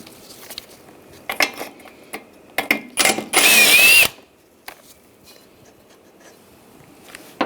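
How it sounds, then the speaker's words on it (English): A 10mm socket on a ratchet works loose the bumper bracket nuts on a 2013-2016 Dodge Dart, with scattered clicks and clacks of metal and one short whirring burst in the middle, quiet in between. "Use a 10mm socket. Take those nuts off."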